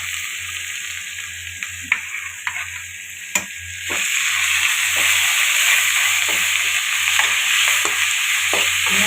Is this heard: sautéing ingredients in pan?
yes